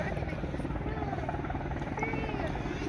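A Sea King helicopter flies at the Midlands Air Festival at Ragley Hall, its rotor chop a steady, loud, continuous throb with a rumbling low end throughout, while someone speaks over the noise.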